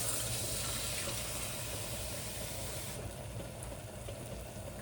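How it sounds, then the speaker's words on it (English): Water pours into a pot of spinach dal as a steady, rushing splash that holds evenly and then softens partway through, heard close with no voices. "we'll add about a cup of water."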